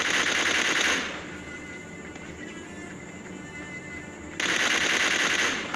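Gunfire in the mobile battle game PUBG Mobile with an MK14 rifle: a rapid, dense burst of shots at the start and another near the end, loud and close, with a quieter stretch between.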